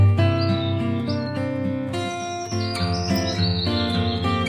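A kingfisher calls in a string of high, thin chirps and whistled notes. They repeat unevenly over several seconds, clear and close, with no voices.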